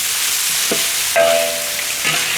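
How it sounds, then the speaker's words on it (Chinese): Rooster pieces stir-fry in a wok with cooking wine, salt and dark soy sauce, making a loud, close, continuous sizzle broken by a few brief stirring scrapes. "料酒、盐、 老抽，炒起来。"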